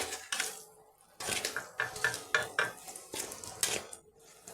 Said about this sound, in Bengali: লঙ্কার গুঁড়ো আর হলুদ গুঁড়োটা আমি আগে ভালো করে মিশিয়ে নিচ্ছি